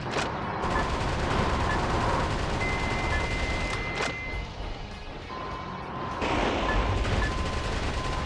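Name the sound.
gunfire from shooting enemies in the video game Metal Wolf Chaos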